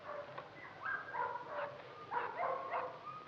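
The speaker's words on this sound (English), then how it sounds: "Heather, take Mrs. Brewster and show her the puppies." Puppies yip, bark and whimper in a short burst of overlapping high-pitched cries, several small dogs close by calling over one another with no talking.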